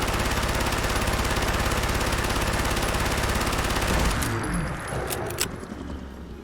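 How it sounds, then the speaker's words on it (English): An upgraded PPSh-41 submachine gun in Fallout 4 fires at a Deathclaw in one long, loud, rapid automatic burst of about four seconds. A few clinks follow as the magazine empties. "Here we are with our fully upgraded PPSh. Same thing, shooting at the stomach of the Deathclaw."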